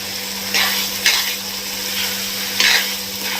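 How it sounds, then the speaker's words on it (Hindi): Chopped tomato frying with masala in a pan, a loud, steady close sizzle broken by a few brief surges as the mixture is stirred. "ये भी मसाले के साथ भुन जाएगा"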